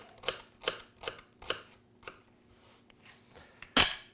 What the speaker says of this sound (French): Ça va nous prendre un couteau, échalote qu'on va ciseler